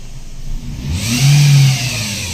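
A Toyota Vios engine with a noise fault revs up from a steady run, rising to a loud, rough roar for a moment, then settling back down, with no talking.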